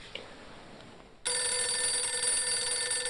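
A telephone rings in the Phantasmagoria game, its bright electronic trill starting suddenly after a quiet hiss and sustaining loud and steady to the end.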